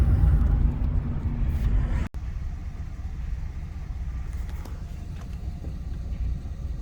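Car driving around town, a steady low engine and road rumble with wind buffeting the microphone, interrupted by a brief dropout near the two-second mark.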